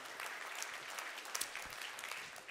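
An audience claps for Jean-François Guillaume at a civic gathering: a short burst of steady, dense applause from many hands, moderately distant, with a few sharper claps standing out near the end.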